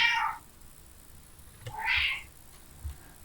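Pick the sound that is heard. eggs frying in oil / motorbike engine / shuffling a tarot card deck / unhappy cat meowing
unhappy cat meowing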